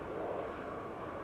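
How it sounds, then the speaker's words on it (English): Steady broadband rotor and engine rumble from about five helicopters passing overhead at a distance, a constant even drone with no voices. "bunch of helicopters flying that way"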